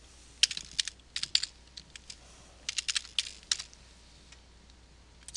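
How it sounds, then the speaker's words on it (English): Typing a web address on a computer keyboard, with about a dozen crisp key clicks in small bursts and pauses, close and fairly quiet with no talking. "we're going to type in conde.com."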